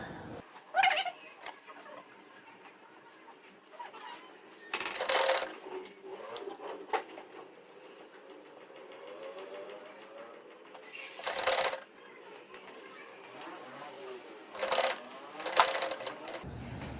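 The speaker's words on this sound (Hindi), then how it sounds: "इस तरह से अब मैं इसको सिलाई लगाती जाऊंगी।" Domestic sewing machine stitching loops onto the neckline of a boat-neck blouse, running in several short bursts with quieter pauses and handling noise between them, moderately close.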